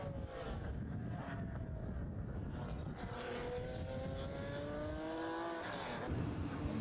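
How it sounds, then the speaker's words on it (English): A Jaguar E-Type racing car at the Estoril Classics historic race, its engine note rising and falling in steady harmonic sweeps, loud and continuous with wind noise over the microphone. "So Jonathan Mitchell is back into the pits in the E-Type"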